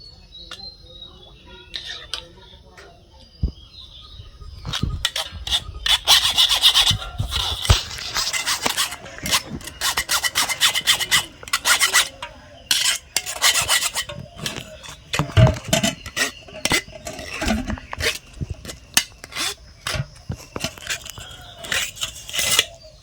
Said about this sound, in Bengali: এখন এই ছাঁকনির সাহায্যে আমগুলো একটু ছেঁকে নেব